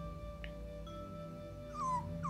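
A puppy in the video game Xuan Yuan Sword VII gives a short, thin whimpering whine near the end, over a steady low game music and ambient bed.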